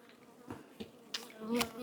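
Honeybees buzzing faintly around an open hive during an inspection, with soft intermittent buzzes and small handling sounds close by.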